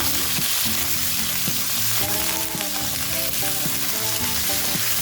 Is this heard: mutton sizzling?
yes